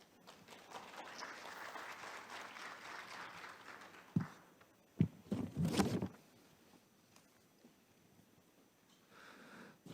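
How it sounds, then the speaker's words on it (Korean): A conference audience at an infectious disease control meeting gives moderate, somewhat distant applause, with a few louder close bumps and rustles near the middle before it goes quiet. "박수로 맞아주시기 바랍니다"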